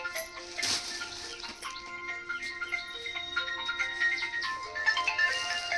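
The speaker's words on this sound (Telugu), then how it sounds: "ఎవరో ఫోన్ చేస్తున్నారు." A melodic electronic phone ringtone plays in repeating tonal phrases, moderately loud, with no talking over it.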